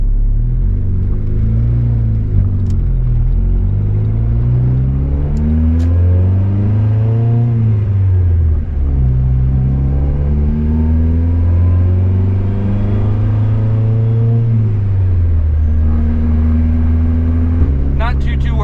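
A turbocharged Honda Civic on the road gives a loud, droning engine note that climbs and falls repeatedly as it accelerates and shifts, heard from close by throughout.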